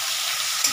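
Chopped tomatoes hit hot oil in a pan for a fish curry, a bright, loud hiss of frying that holds steady and flares briefly at the end.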